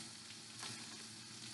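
Zucchini and yellow squash sizzle steadily in a hot pan, a dense continuous crackling fry with a brief louder burst partway through, close and alone without voices.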